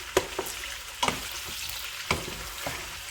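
Fresh tomatoes, two small very red ones, frying in a pan, with a steady soft sizzle broken by several sharp clicks and scrapes of stirring, close and moderately quiet.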